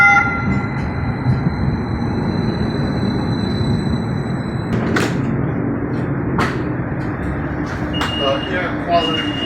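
A train pulls into a station with a low rumble and rattle, punctuated by metallic clanks and brake squeals, while someone talks close by.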